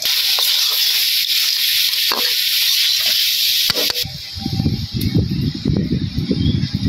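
Fish and eggplant curry stirred in a pan with a little water: steady steamy hiss throughout, then from about four seconds a run of louder wet scraping and sloshing stirring strokes up close.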